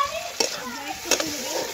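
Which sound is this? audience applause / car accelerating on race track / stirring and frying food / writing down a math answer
stirring and frying food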